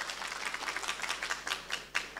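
Applause for Todaram Ji Goliya at a conference, a dense crowd clapping steadily and fairly softly with individual claps and swells running through the whole short stretch.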